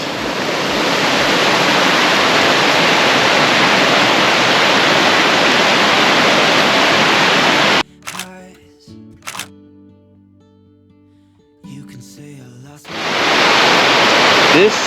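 Water pours steadily over a mossy waterfall at Devils Tower, a loud dense broadband rush that fills the first half, then cuts out abruptly and comes back near the end.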